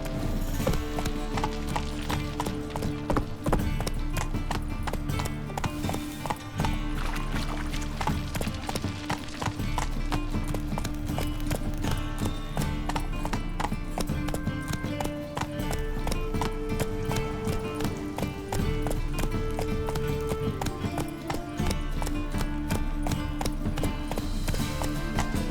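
Horse hooves galloping in The Witcher 3, a strong continuous clip-clop beat mixed with game music throughout, with an occasional whinny.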